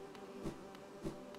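A bee buzzes in the video game Hollow Knight, a steady close drone with two louder wingbeat swells as it passes, alone without talk.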